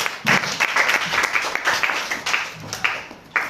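Audience applause for Longrich, a full burst of many hands clapping at once, steady and fairly loud for a few seconds with faint voices underneath.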